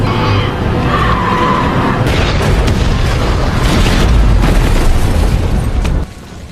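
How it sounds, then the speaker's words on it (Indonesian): A loud, roaring explosion of a planted bomb in a horror film, with a deep rumble and crackling debris that fills several seconds before cutting off abruptly. "berkat ledakan bom yang si Robert pasang"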